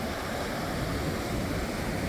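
Ocean surf rushes against a rocky shore by a bay while the sea runs high, mixed with gusty wind buffeting the microphone. It makes a continuous, even wash of noise with no voices.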